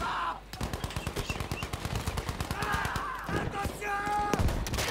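Rapid automatic gunfire in Battlefield V during a Breakthrough match on Operation Underground, a dense rattling burst of shots for several seconds, followed by a few separate cracks near the end.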